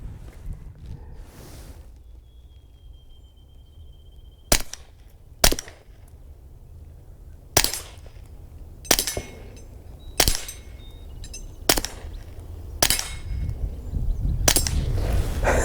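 Taurus TX22 Competition .22 pistol fired at 10 yards on a shooting range: about nine sharp, loud single shots spaced roughly a second apart, each with a short ring, over low outdoor background noise with no talking.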